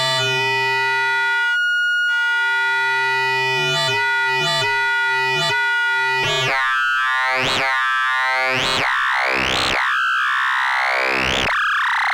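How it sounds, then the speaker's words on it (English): An Intellijel Cascadia synthesizer plays two sine wave oscillators frequency-modulated together: clean steady tones with short gaps give way to swooping, metallic, boinging sweeps that rise and fall repeatedly, loud and continuous. "it's going to take VCO-B's sine wave and FM them together"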